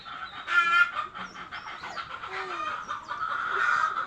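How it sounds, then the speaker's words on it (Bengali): Several crossbred Mishri farm chickens cluck and call over one another in a steady, busy chorus, fairly close, with no talking. "এই যে সামনে যে মুরগিগুলো দেখতেছেন এটা ক্রস করা মিশরি ফার্মি মুরগি"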